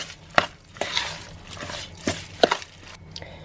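A spoon stirs a seasoned, diced chicken mixture in a bowl, giving a few sharp knocks and soft scraping strokes up close, sparse and uneven.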